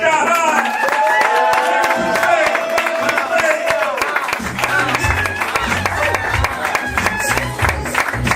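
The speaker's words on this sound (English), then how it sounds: "Give her a applause to Sky High." An audience at an open mic poetry night at Kat's Cafe claps and cheers loudly, with sharp hand claps mixed with shouting voices that settle into crowd chatter.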